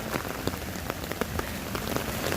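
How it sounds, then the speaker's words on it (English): Heavy rain falling at an outdoor theme park in the evening, a dense continuous patter with scattered louder drops striking nearby surfaces. "It's really raining."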